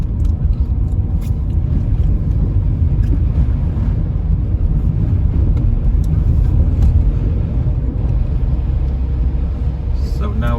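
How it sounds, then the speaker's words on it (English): A car driving on the M4 motorway in the UK, heading from South Wales toward London: a steady, loud low road rumble and engine drone throughout, with faint voices now and then. "So now we're going to join the motorway."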